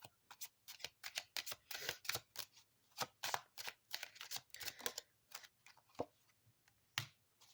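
Kipper oracle card deck being shuffled close up, a rapid run of crisp riffling flicks and card snaps in irregular bursts, quiet and with no talk over it.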